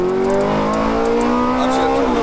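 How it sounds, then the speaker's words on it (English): A Ferrari F430 engine climbs in pitch, shifts up, then pulls hard again in a loud, close, continuous rising howl. "Upshift and accelerate."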